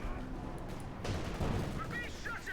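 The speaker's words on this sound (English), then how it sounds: "Cromwell firing away there" A Cromwell tank fires in Company of Heroes 2, a sudden boom under ongoing battle noise and faint background chatter, followed by lighter rumbling and some high whistling effects.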